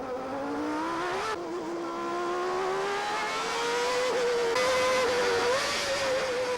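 Formula One race cars lap the circuit in the late 1980s Ferrari era, with a high, wailing engine note that rises and falls through gear changes, steady and fairly close, without talk.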